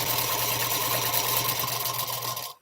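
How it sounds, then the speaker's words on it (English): Sewing machine stitching at a steady fast pace, a close, even mechanical whirring hum that runs continuously and then stops abruptly at the end. "before I start sewing away"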